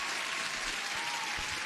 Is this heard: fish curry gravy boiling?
no